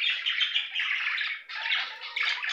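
Budgerigars in a home breeding cage chirp and warble in quick, busy overlapping bursts, close and fairly faint, with no talking.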